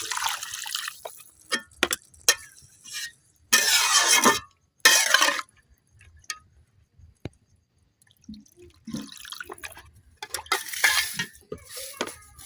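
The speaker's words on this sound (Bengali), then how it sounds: "এখন আমি অল্প একটু পানি দিয়ে দিলাম কারণ ডালটা কিন্তু বোনা করতেছি আজকে।" A little water is poured into lentil dal being cooked down in a pan at home, giving short hissing, splashing bursts with scattered drips and clinks between quiet gaps.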